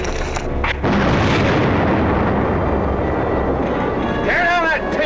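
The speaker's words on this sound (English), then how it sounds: "An explosion. It's up over the hill." A distant explosion rumbles over a hill near a telegraph supply base in 1951, a long, loud, sustained roar of rumbling and crackling, with a voice speaking near the end.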